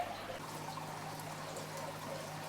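Water from a koi pond filter shower pours and trickles in a quiet, continuous stream over a faint steady hum.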